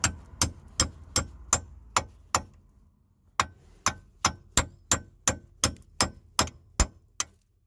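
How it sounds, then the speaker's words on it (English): A flathead chisel hammered against the lower suspension control arm of a Peugeot 206, a series of sharp metallic clangs at an even quick rhythm, six strikes, a short pause, then about a dozen more, close and loud. "now I'm going to use a flathead chisel"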